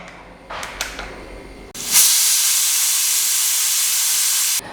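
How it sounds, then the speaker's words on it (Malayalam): A pressure cooker of dal curry releasing steam, a few short hisses and puffs before a loud, sustained steady hiss of steam rushing out for several seconds that then cuts off abruptly, close up with no talk. "ഒരു വിസിൽ വന്നതിന് ശേഷം ആവി കളഞ്ഞ് ഞാനൊന്ന് തുറന്നു നോക്കിയിട്ടുണ്ട്"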